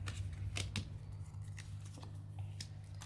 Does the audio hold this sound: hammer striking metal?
no